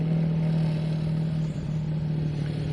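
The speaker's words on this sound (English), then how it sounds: "the engine in the back of that vehicle that's making that glorious noise is of course the Rolls-Royce Meteor" A tank's Rolls-Royce Meteor engine runs at an outdoor arena display, a steady, loud, deep droning rumble with a constant tonal hum, heard from a moderate distance without pause.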